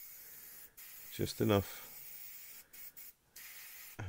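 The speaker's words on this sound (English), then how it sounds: "Give it a very, very faint spray over and just lighten the whole paint up." A light, faint spray of paint drifts over a Revell Lockheed Ventura MkII scale model, giving soft hissing bursts around a brief spoken phrase.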